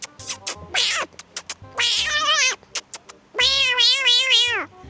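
A man imitates a kitten suckling milk from its mother: a close, loud run of short smacking clicks followed by long, wavering, meow-like squeals, with no other voices.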